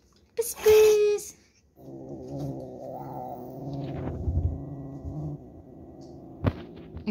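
An angry cat gives a sharp yowl and then a low, rumbling growl that drones on steadily for several seconds up close, ending with a brief thump.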